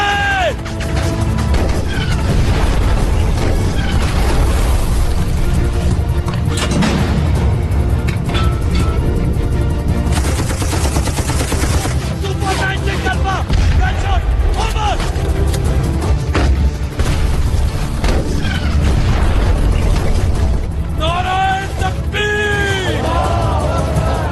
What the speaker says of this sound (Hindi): सुपर 96 अल्फा ऑन टारगेट, फासला 1500 मीटर, 11 बजे की टाइम, दुश्मन का टैंक फायर!